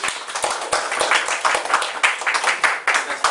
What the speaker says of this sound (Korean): 박수로 한번 맞아주세요.